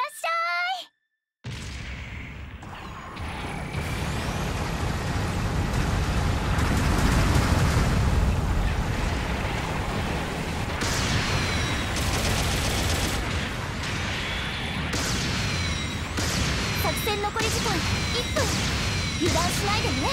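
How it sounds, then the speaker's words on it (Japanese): Incoming artillery bombardment in a video game: after a short burst and a brief gap of silence, a sustained roar of rumbling explosions and whooshing shells builds and continues, with sharp impacts scattered throughout, loud and dense. "砲撃が来るよ。"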